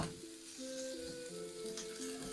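Thinly sliced, unmarinated beef sears in a wok with a soft, steady sizzle, while sustained musical tones play faintly underneath.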